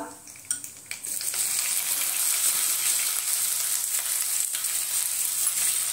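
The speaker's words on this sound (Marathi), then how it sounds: "त्यामध्येच आपण कांदा परतून घेऊया" Chopped onion sautés in hot oil with asafoetida and mustard seeds in a pan: a few light clinks at first, then a steady, close, continuous sizzle with no voices.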